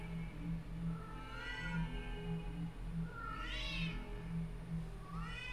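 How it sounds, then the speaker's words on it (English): A pet cat meows several times in a room during a Hogwarts Legacy gaming session, its drawn-out calls rising over a steady low hum of game audio and room noise, fairly faint and somewhat distant. "Do I hear a cat?"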